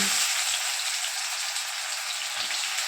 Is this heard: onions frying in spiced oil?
yes